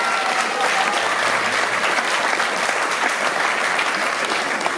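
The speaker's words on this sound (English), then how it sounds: "give them a round of applause" Loud, dense audience applause at a Hall of Fame induction ceremony, sustained and even with a cheering crowd throughout.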